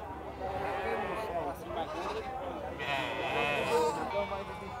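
Sheep bleat at a crowded goat and sheep market in Campina Grande, Paraíba, their calls rising over a dense, steady background of people talking nearby.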